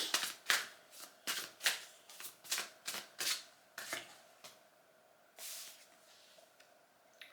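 Tarot cards shuffled by hand for a reading, a run of about a dozen crisp riffling bursts in quick rhythm, close and fairly quiet, with a softer hiss near the end and no talk.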